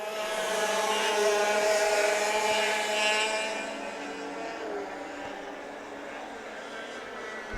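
Racing karts on a track, several small engines buzzing and whining as they pass close by, loud at first and then fading into the distance.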